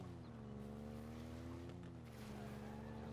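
Warthog vehicle engine in a Halo Infinite gameplay trailer, a steady, droning motor hum that swells slightly in pitch as it revs, with rushing noise over it, continuous and fairly full throughout.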